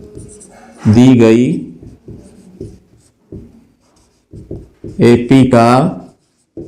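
Pen or chalk scratching and tapping in short strokes as a Class 10 maths solution on arithmetic progressions is written out by hand, heard close between bursts of someone speaking Hindi.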